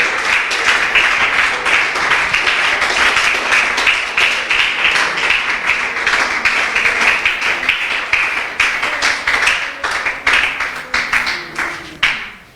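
A church congregation at a Spanish-language worship service applauds for Jesus in steady, sustained clapping, loud and dense throughout, with a few faint voices and cheers mixed in near the end.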